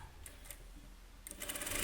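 A sewing machine running a rough stitch through a blouse lining, a short steady mechanical whir with faint rapid ticking that grows slightly louder toward the end.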